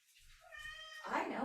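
A cat indoors gives a soft, thin meow, followed by a louder, brief scratching, rustling burst, heard close and faint.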